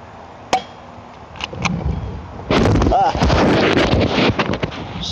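Airsoft gun shots fired at the remains of a broken lightbulb outdoors in strong wind, one sharp crack early, then a burst of several snapping shots over heavy wind buffeting on the microphone.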